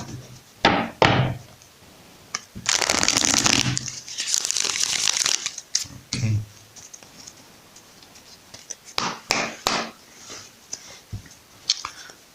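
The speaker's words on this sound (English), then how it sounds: "Okay, let's shuffle." A tarot card deck being shuffled for a reading, with bursts of riffling and crinkling card noise separated by soft taps and knocks of the cards, close and fairly loud with no talking.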